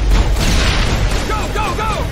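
Weapons fire in a Mass Effect battle at ExoGeni gives loud, dense booms and bursts throughout, with short electronic chirps layered over the end.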